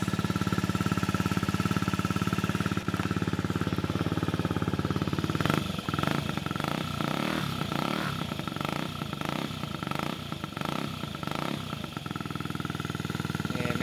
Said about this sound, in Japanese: エンジン音も静かです